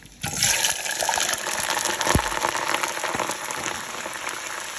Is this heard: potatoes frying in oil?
yes